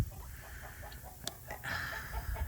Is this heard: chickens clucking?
yes